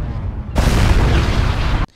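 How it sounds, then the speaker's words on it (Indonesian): In the film Knight and Day, an overheated battery explodes: after a brief lead-in, a loud, deep boom erupts and roars for over a second before cutting off sharply. "Freeze malah tewas karena ledakan dari baterai zipper yang mengalami overheat"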